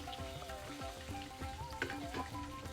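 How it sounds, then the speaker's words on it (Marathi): Curry leaves crackling in hot oil for a traditional Maharashtrian katachi amti tempering, a continuous close sizzle with scraping stir strokes and crisp pops throughout. "कढीपत्ता पण एकदम तडतडायला पाहिजे, कडक फोडणी द्यायची एकदम."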